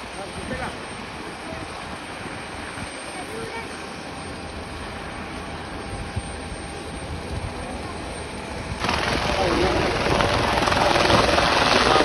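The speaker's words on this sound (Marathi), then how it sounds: "मुख्यमंत्र्यांचा हेलिकॉप्टर उडला" A chief minister's helicopter's rotor and engine whir steadily, then swell sharply louder as it powers up and takes off at a temple inauguration; voices are faintly mixed in.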